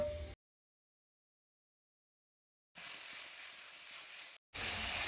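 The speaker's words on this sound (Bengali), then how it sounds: "মশলাটাকে কষানোর জন্য আমি এখানে এক কাপ মতো জল দিয়ে দিলাম" Spice paste with ginger paste frying in a pan, where about a cup of water has just been poured in, gives off a steady, fairly faint sizzle and hiss in two bursts broken by silence, with no talk.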